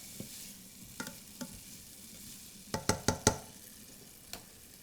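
Onion tossed into a simmering pot of a Thanksgiving dish, with a quiet sizzle under several close utensil scrapes and knocks against the pan, a short burst of taps near the middle.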